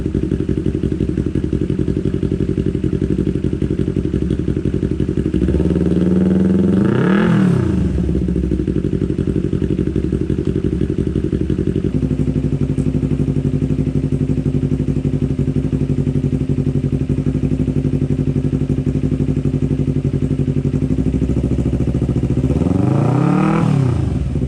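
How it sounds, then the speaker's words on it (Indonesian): A Yamaha MT 25 motorcycle fitted with a cheap aftermarket silencer idles loudly and steadily, with two sharp throttle blips rising and falling, one midway and one at the end, heard close with no talking. "itu adalah video mengenai knalpot atau silencer"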